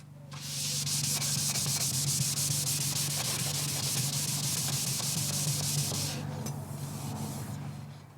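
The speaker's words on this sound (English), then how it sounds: "the small side emblems to be rubbed down to remove the rough layers of cack-handedly applied touch-up paint" Small retro car badge emblems are rubbed down by hand to strip rough touch-up paint, a close, steady abrasive scratching rasp that runs continuously for several seconds, then fades.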